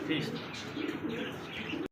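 Soft, close cooing of Modena pigeons in short repeated rolls, with faint chirps over a quiet background.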